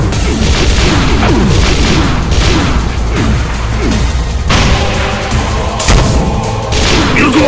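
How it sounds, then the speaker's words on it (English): Demon Tech BFG shots from a Doom mod, Complex, roar out in a loud, continuous barrage of booming blasts and crashing impacts with no break. "It can fire Demon Tech BFG shots."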